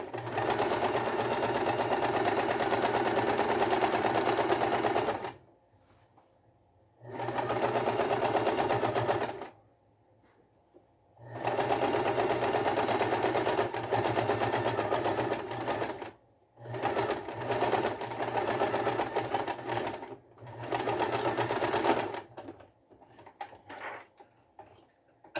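A sewing machine stitches fabric for a double-sided panties garment, running in four sustained bursts of close, steady mechanical whirring separated by brief silent pauses, with no talking.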